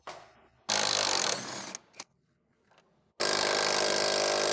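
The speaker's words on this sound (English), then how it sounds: "Use an 18mm deep socket with electric impact to remove the two upper shock bolts." An electric impact wrench with an 18mm deep socket drives out upper shock bolts on a 2013-2020 Ford Fusion, giving two long, loud, close hammering bursts separated by a short quiet pause, with no speech.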